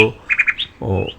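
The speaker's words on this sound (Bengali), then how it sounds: "কাকের শব্দ" Crows in the city of Dhaka give a short cawing call, a few quick harsh notes followed by a longer rasping caw, heard close and alone.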